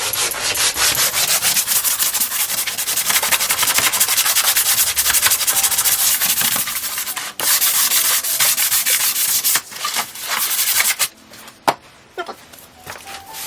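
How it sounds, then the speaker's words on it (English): Vigorous hand sanding of an aluminum composite panel, a dense, continuous scratchy rasp close up that pauses and breaks into short strokes and taps near the end. "So I'm just gonna go ahead and sand this really well, the same way I sanded the other panel."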